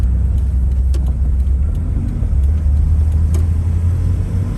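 A 1989 Toyota Tacoma SR5 Club Cab 4x4 pickup with a 3.0 V6 and five-speed manual accelerates, its steady low engine rumble and road noise loud and continuous from inside the cab, with no talking.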